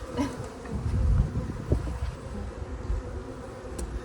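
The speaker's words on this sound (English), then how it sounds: "all the bees are rushing back to their hives right now" A dense swarm of honey bees buzzing steadily around their hives nearby, the drone rising and falling as insects fly past.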